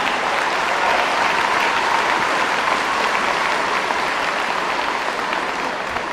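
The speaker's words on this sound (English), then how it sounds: "how about a round of applause for that?" A wrestling event audience applauds a cadet world championship bronze medalist, steady dense clapping from a large crowd filling the space at even loudness throughout.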